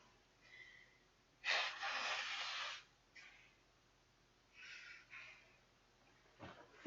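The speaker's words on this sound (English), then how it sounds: "I gotta blow my nose." A person blows their nose into a tissue, one long loud honk followed by a few shorter snorts and sniffs, close and alone in a quiet room.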